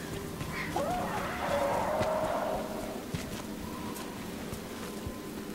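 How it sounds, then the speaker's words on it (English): Crows in the video game Destiny cawing and squawking in a short cluster near the start, moderately loud over steady ambient noise, then fading to a few scattered faint calls. "Oh, crows. I forgot about them."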